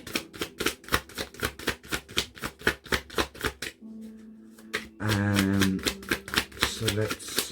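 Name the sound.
shuffling a deck of tarot cards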